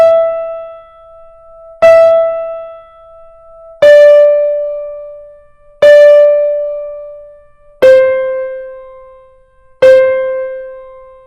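Minim notes on a bright pitched keyboard tone, six sustained two-count notes evenly spaced about two seconds apart, each struck then slowly decaying, stepping down slightly in pitch in pairs, played alone.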